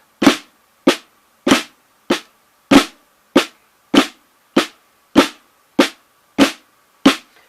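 Twelve sharp snare-style drum taps in a flam tap exercise, struck at a steady, even pace, each crisp and quickly decaying, played alone with no talking.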